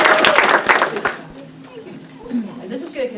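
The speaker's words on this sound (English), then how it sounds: "So Sue, we can give Sue a round of applause." An audience at a school board meeting gives a short burst of applause that dies away after about a second, followed by quieter talking and murmuring.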